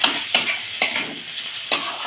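A utensil stirs sugar into a spiced pointed gourd curry in a pan, making four distinct close scraping strokes at an uneven rhythm over a soft background sizzle.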